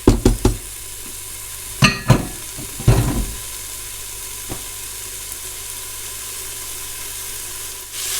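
Prawns frying in a pan for a cauliflower paella, with a few sharp stirring clatters early on over a steady, fairly loud sizzle that continues alone.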